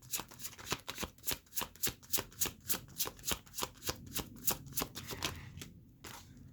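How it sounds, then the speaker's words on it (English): Tarot cards shuffled by hand, a quick run of about twenty crisp, evenly spaced slaps and riffles, close and clear, easing off at the end. "So bear with me, I'm going to shuffle."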